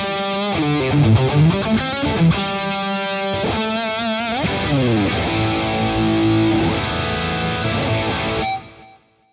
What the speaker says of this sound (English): create a big 80s lead tone with a stereo chorus